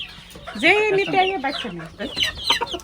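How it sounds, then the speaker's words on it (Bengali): Desi chickens on a farm cluck repeatedly at close range, a run of short throaty calls one after another with brief pauses between. "এগুলো সব দেশি মুরগি"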